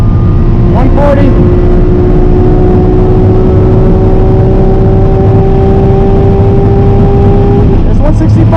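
A car accelerates at full throttle toward top speed, producing a loud, saturated engine drone with a steady rising tone, heavy wind rush, and a voice talking over it in places.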